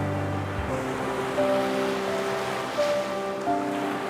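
Ocean waves break on the shore at Haeundae beach near Dongbaek Island, making a steady broadband rushing wash with faint swells and no voices.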